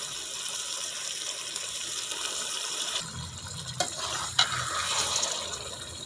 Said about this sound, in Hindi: अब इसमें मैरिनेट गोश्त जो हमने तैयार करके रखा हुआ था वो डाल देंगे।